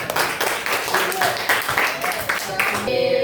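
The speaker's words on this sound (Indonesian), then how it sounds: "Beri tepuk tangan untuk kelompok." Classroom students clapping for a presenting group, a brief burst of mixed hand claps close by, with voices talking over it before the applause fades.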